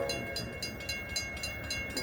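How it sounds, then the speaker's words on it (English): A freight train led by the Honoring Our Veterans locomotive rolls past, its wheels clicking in a steady repeating rhythm over a continuous low rumble, close and fairly loud. "it's the honoring our veterans locomotive again"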